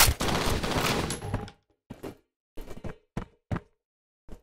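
Gunfire in the shooter game F.E.A.R.: a loud sustained burst of automatic fire, then several separate short shots with silent gaps between them.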